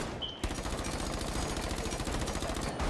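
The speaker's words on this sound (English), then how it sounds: "Shoot all your bullets in the air." Automatic gunfire in a video game rattles continuously for nearly three seconds as bullets are fired into the air, a rapid, loud, steady stream of shots.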